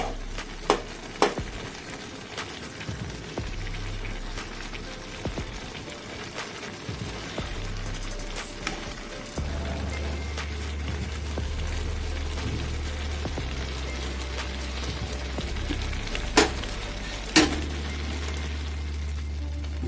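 Catla fish pulao being stirred and fried in a pot: a steady, close sizzle with scraping stirs and a few sharp clinks of the utensil against the pot, the frying growing denser partway through.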